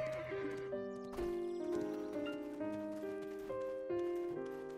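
A horse in the video game Black Desert Online neighs and its hooves clop along, heard beneath steady melodic game music that runs through the whole stretch.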